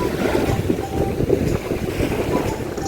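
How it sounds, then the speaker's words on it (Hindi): Sea water washes continuously along the shore of Guraidhoo Island in the Maldives. The broad, steady rushing is mixed with wind buffeting the microphone, and no one speaks. "अब हम यहाँ पे आराम से बैठेंगे और थोड़ा पानी का शोर सुनते हैं"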